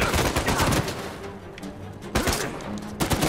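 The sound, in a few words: gunfire in video game Uncharted 4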